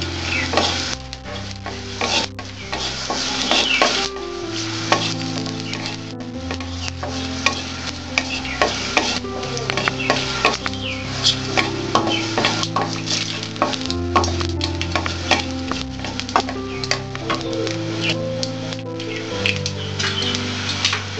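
Whole cumin seeds sizzle and crackle in hot oil in a pressure cooker over a raised gas flame while preparing ghugni, a steady frying hiss under loud, continuous background music.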